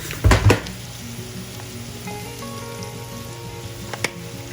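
Onions frying in a pan with a little salt give a steady, soft sizzle throughout, with a couple of sharp clatters near the start and one more near the end.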